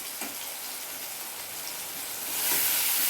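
Ginger paste sizzling in hot oil for a pea lentil bada curry, a steady broad hiss of frying that swells louder near the end, with no talk over it.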